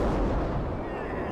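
Heavy rumbling blasts from an airstrike of two 500-pound bombs hitting an enemy position, a loud, sustained low boom rolling on for over a second with no break.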